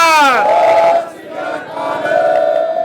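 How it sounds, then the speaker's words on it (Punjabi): A crowd of protesters at a rally against a CNG plant shouts the Sikh jaikara battle cry, a loud, close collective roar with one voice leading and the group answering in a long sustained shout. "ਇੱਕ ਵਾਰੀ ਜਕਾਰਾ ਲਾਓ, ਬੋਲੇ ਸੋ ਨਿਹਾਲ।"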